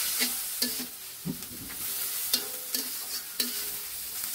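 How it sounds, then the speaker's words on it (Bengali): Dried fish being stirred and fried with turmeric powder in a pan, with a steady sizzle under repeated sharp scraping and clacking strokes of a spatula at an irregular rhythm. "তারপর এতে দিব আমি সামান্য হলুদের গুঁড়া দিয়ে আবারও ভালোভাবে নেড়ে চেড়ে ভেজে নিব।"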